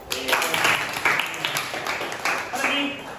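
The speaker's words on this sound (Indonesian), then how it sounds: "Kasih tepuk tangan dong" A classroom of students claps briefly after a teacher's prompt, a short burst of scattered applause that runs under and around speech.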